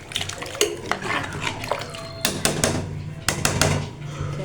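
A spoon stirs potato and pea curry (aloo matar) in a pot in a home kitchen after water has been added, giving irregular clinks and scrapes of metal against the pot at close range, with a few sharper knocks.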